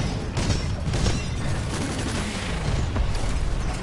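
Titan missiles fire in rapid succession in the video game Titanfall 2, a dense rumbling barrage of launches and booms with mechanical clatter, loud and continuous.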